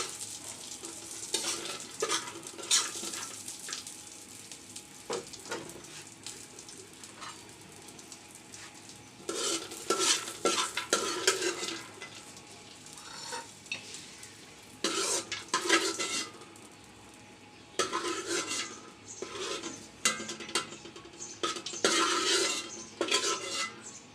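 Laccha semai vermicelli is stirred and fried in a pan for a milk dessert. Sizzling comes and goes, with repeated scraping and clinking of a utensil against the pan in uneven bursts, close and fairly loud, with no voices.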